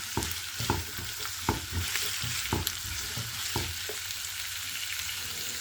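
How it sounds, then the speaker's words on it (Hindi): Finely cut carrot stir-fries on a high flame, a steady loud sizzle broken by regular scraping and clacking strokes of a spatula against the pan, close up with no voices. "इसको 2-3 मिनट के लिए फ्राई करेंगे।"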